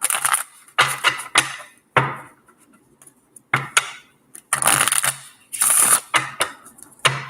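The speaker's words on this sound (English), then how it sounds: "Let me do a little bit more shuffling." Repeated crisp riffling bursts of cards being shuffled, several short flurries separated by brief pauses, close and fairly loud.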